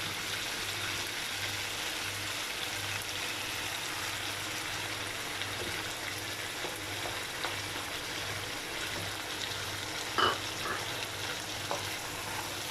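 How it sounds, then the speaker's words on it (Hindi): Chicken frying in a pan with onion and garam masala as yogurt is added, giving a steady, soft sizzle throughout with a few faint clinks near the end. "पाँच से 7 मिनट फ्राई करने के बाद अब इसके अंदर मैं दही ऐड कर दूँगी"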